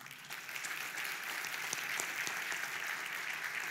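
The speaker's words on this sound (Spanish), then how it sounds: "Vamos a darle un fuerte aplauso al Señor." A church congregation claps steadily during a sermon service, a dense, continuous patter of many hands at even loudness throughout, with no talking over it.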